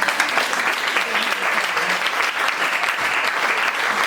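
A church congregation claps and applauds in praise of the Lord, a dense, steady wash of many hands filling the whole stretch at even loudness, with some voices mixed in.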